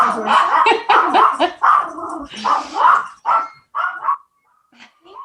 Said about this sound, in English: And here's my dog.